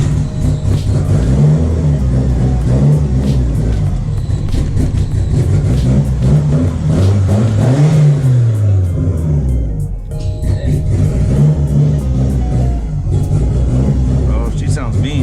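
A built DSM car engine, started for the first time after a rebuild, revs and roars loudly, its pitch rising and falling through repeated throttle blips, with a voice talking over it.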